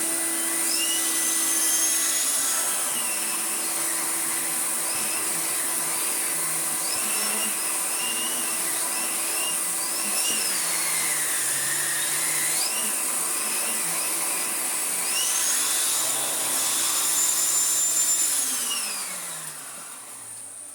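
A restored 1985 Electrolux Z327 Sup'Air vacuum cleaner motor roars steadily with a high whine, its pitch wavering as it works, then winding down near the end.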